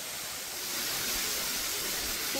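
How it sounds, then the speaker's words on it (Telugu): Double Falls waterfall in Oregon: a steady, broad rushing hiss of falling water, fairly faint and distant, with no other sounds or voices. "అలాగా ఈ డబల్ ఫాల్స్ దగ్గరకు వచ్చాము."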